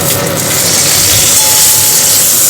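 Chickpeas, almonds, cashews and curry leaves sizzle in oil in a kadai, giving a loud, steady, close hiss with no break and no voices.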